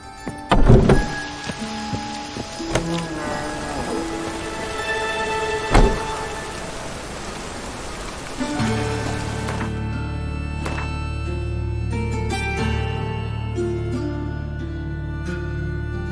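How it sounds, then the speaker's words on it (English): Rain falls with scattered sharp drops and patters, then a steady low rumble like distant thunder or traffic sets in beneath continued pattering and brief clicks. "Looks like rain."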